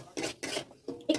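Dry chilli jackfruit is stirred in a pan, with four short scraping strokes of the spatula against the metal, close and uneven, and no talk.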